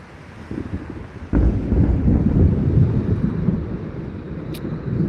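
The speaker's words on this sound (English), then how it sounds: "There's the thunder." A deep rumble of thunder during a thunderstorm in Pittsburg, Kansas starts suddenly and rolls on, loud and low, with wind buffeting the microphone throughout.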